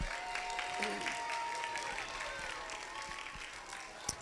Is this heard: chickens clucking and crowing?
no